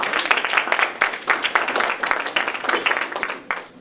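Audience applause fills a hall at the finals of a national high school debating competition, a dense, steady burst of many hands clapping that carries on for several seconds before starting to thin.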